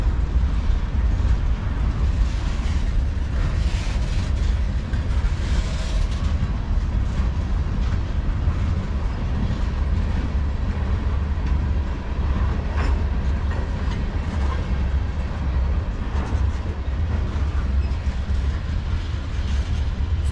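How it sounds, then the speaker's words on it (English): A long CSX freight train of loaded tank cars rolls past close by, a steady heavy rumble with clickety-clack of wheels over rail joints that continues without a break. "It's a long train."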